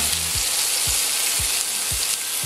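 Veal chops frying in a pan, a dense, even sizzle close up with four or five soft low thumps spaced about half a second apart, no speech.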